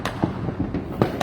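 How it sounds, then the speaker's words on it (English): Fourth of July fireworks popping and crackling in the background, a rapid irregular run of sharp bursts at moderate distance, with no talking. "as you already can hear in the background, fireworks are going off"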